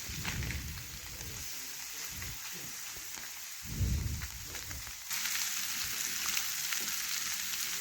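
Small fish frying in oil in a pan and flipped over partway through, a constant crackling sizzle with a few louder bursts and scrapes as the fish are turned.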